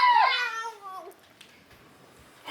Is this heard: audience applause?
no